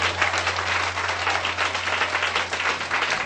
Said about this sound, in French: clapping for Jesus.